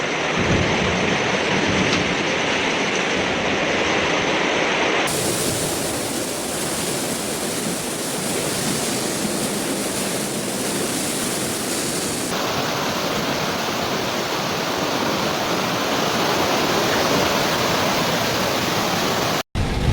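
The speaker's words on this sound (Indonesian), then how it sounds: "Kondisi saat ini hujan deras." Heavy rain pours during flooding in Bandar Lampung, Indonesia, a dense, unbroken roar of water lasting about twenty seconds, with a low rumble of thunder underneath.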